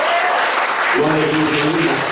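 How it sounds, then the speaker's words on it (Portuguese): Congregation applause in an evangelical church service, a close wash of clapping running under a preacher's loud spoken praise. "Você pode aplaudir o nome de Jesus."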